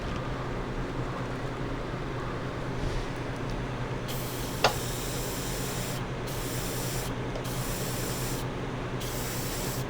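Airbrush with a 0.55 mm tip spraying gloss enamel paint onto a 1/144 Gundam OZ-06MS Leo model: close, steady hiss that switches on and off in bursts over a constant background hum, with a brief click partway through.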